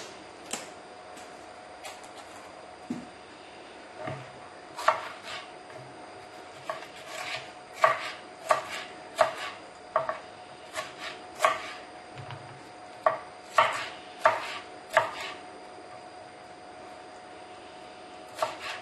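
Knife chopping bell pepper on a board, a quiet series of crisp taps that speeds into faster irregular runs with brief pauses, no talking.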